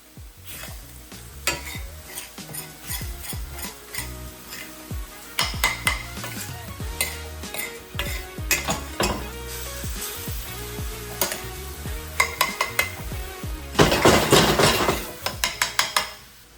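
Ground turkey browns in a hot pan and is broken up with a utensil, a continuous sizzle punctuated by repeated sharp scrapes and clacks against the pan, loudest in a busy burst near the end, with no talking.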